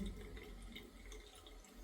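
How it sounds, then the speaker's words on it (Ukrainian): Water runs from a bathroom tap in a newly bought house in Poland, a faint steady trickle and splash with no voices. "Слухайте, пішла трохи вода, краще."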